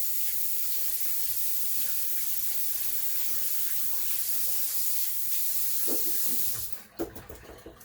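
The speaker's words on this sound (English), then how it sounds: "And I get my hands rinsed off again." Running tap water pours steadily over hands being rinsed in a kitchen sink after shaping meatloaf, a continuous close hiss that cuts off near the end with a few drips and small clatters.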